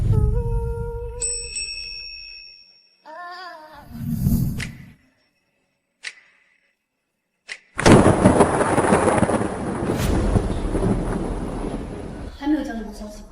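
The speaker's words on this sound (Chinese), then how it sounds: "外面都下这么大暴雨了" A heavy thunderstorm rages outside: a deep rumble swells briefly, then after a short silence a loud, sustained roar of downpour and thunder fills several seconds. Brief voices are heard around it.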